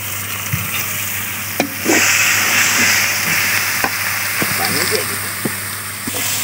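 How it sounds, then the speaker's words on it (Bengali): Masala spices sautéed in a pan with browned onions, a steady frying sizzle with occasional spoon scrapes and stirring knocks, close and fairly loud over a low background hum. "তো এখন এই মশলাটা কষাবো"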